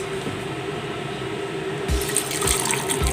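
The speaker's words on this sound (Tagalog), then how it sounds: "Then, lalagyan natin ng tubig, guys." Water is poured onto freshly grated whole coconut to make coconut milk, a steady close splashing fill that grows a little brighter toward the end, with no voices.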